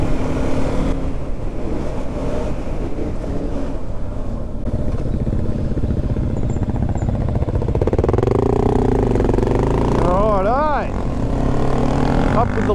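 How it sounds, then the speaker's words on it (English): A DRZ 400 dual sport motorcycle rides along a dusty, potholed track on a group ride, its engine a loud, steady drone with wind rush, rising and shifting in pitch near the end. "So Ken's on a DRZ 400"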